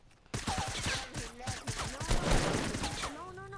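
Rapid gunfire bursts in a video game, a dense run of shots from start to finish beneath excited voices calling out to one another.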